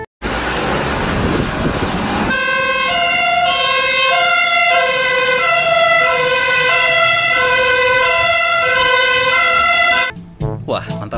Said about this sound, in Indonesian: Di sini ada mobil damkar.